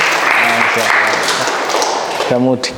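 Audience clapping during a teaching session, a broad, steady patter of many hands running loud under someone talking, fading out as his voice comes forward at the end.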